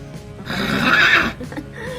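A single loud, close horse whinny rises and falls over about a second, followed by a few faint softer sounds.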